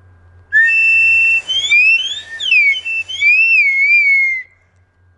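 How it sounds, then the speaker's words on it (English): A slide whistle plays a few seconds of loud, pure, whistling tones whose pitch glides up and down as the slide moves. It sounds alone, with no talking. "and finally a whistle. This is a slide whistle."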